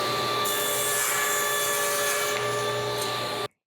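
A table saw with a sled cuts through a wooden workpiece, a loud, steady whining buzz with the blade tone rising as it bites, then cutting off abruptly.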